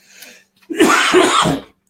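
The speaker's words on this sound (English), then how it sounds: "Excuse me for coughing here." One loud, harsh cough burst lasting about a second, close to the listener, preceded by a faint short sound and then silence.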